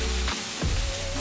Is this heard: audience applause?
no